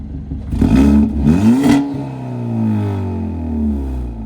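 Hyundai Elantra N with a Borla ATAK exhaust in quiet mode, revved twice in quick succession, each rise and fall of engine pitch close and fairly loud, then settling back to a steady low idle.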